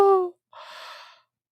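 A stifled yawn: a short voiced breath quickly cut off, then after a brief pause a soft, airy exhale lasting about half a second, close to the microphone.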